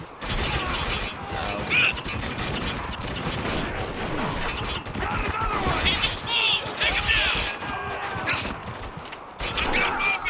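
Heavy gunfire in a firefight in the video game Spec Ops: The Line, dense continuous shooting and rattling bursts throughout, with shouted voices over the battle.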